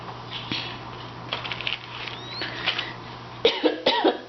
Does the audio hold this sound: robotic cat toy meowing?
no